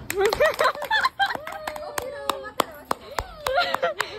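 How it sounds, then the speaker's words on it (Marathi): People clap unevenly at a child's birthday, sharp scattered claps mixing with excited voices, chuckles and tonal calls close by. "टाळ्या वाजवा"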